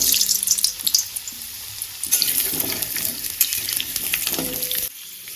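Potato pieces frying in hot mustard oil, giving a steady close hiss and crackle that runs on for several seconds with light scraping, then drops off abruptly near the end.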